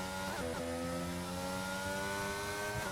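A race car engine in a racing game at Monza revs hard and continuously, with a brief stumble and pitch jumps from a mixed-up gear change early on, then a steady high drone; loud and close, no talk.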